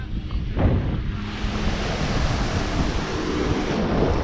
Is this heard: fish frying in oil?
no